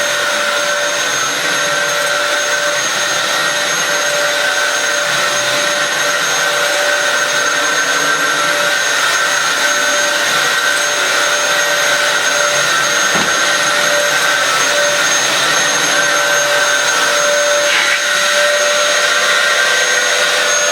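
A refurbished Dyson DC07 vacuum cleaner runs at full power, a loud, steady, close motor whine with a high tonal hum that holds unchanged throughout, broken only by one brief knock.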